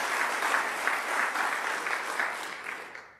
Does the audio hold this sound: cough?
no